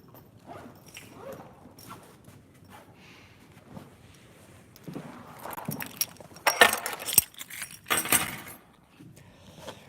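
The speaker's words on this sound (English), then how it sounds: "Gotta have keys." Keys jangle and clink in irregular metallic bursts, faint at first and then louder and busier near the end, along with some footsteps and shuffling, with no talk.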